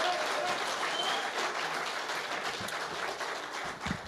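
Audience at a county supervisor candidate forum applauding, a dense sustained clapping from a roomful of people that stays full and even for a few seconds before tapering slightly.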